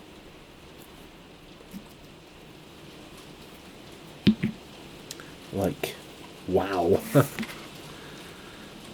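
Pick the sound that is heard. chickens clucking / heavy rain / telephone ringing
heavy rain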